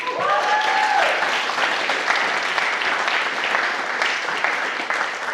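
Audience applause at a conference talk, a dense, steady wash of clapping that runs for the whole stretch at an even loudness, with a brief whistling tone near the start.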